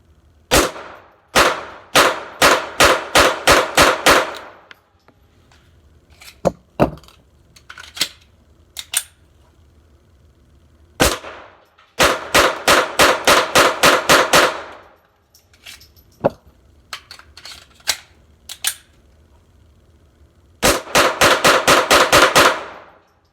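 Rapid fire from a CZ 75 Kadet pistol at a shooting range, with loud, sharp shots in fast strings of about six to nine, separated by pauses and a few isolated single shots.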